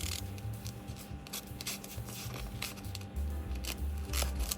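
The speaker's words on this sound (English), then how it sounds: "I'm going to put the backing back on before I cut it because I do not want to ruin my scissors" Scissors snip through a sticky sheet with its backing still on, a close, steady crunching and rubbing cut that runs for several seconds with no talk.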